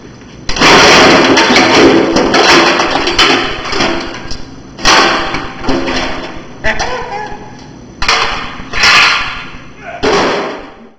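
Loud, close banging, slamming and scraping as the plastic body is wrestled off a lawn tractor being stripped for a homemade RC car, heavy thuds coming in repeated bursts with short pauses between them.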